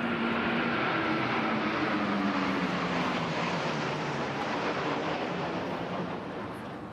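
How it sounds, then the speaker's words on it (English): Military aircraft flypast of a Boeing Poseidon with Typhoon jets at Trooping the Colour: a loud, continuous roar of engines overhead that slowly fades near the end. "Flying behind the Poseidon and Typhoons is the Rivet Joint from RAF Waddington, with another two Typhoons from RAF Coningsby"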